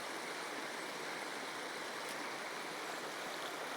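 Dumalon River in Tulungtong, Zamboanga City flowing past its bank, a steady broadband rush of moving water, continuous and fairly close with no break or voices.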